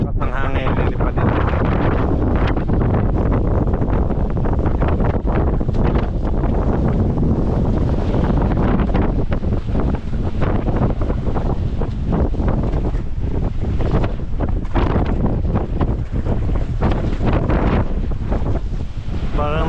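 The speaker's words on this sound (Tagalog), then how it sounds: "Lakas ng hangin, lilipad din." Strong wind over a rough sea roars and buffets the microphone nonstop, with waves washing underneath; loud, close and gusty throughout.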